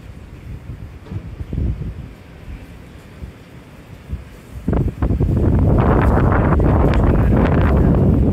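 Wind buffets the microphone on an apartment balcony overlooking the Nanakramguda view point, low rumbling gusts that swell into a loud, constant roar in the second half.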